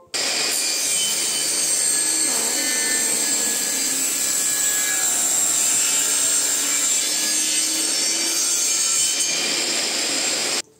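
A saw cuts steadily through a wooden strip in a workshop, a continuous loud rasping that holds for about ten seconds and stops abruptly at the end, with no voices.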